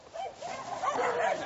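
Dogs on a ramshackle Fukushima farm that shelters abandoned animals give short barks and whimpers, fairly close, with a voice speaking over them.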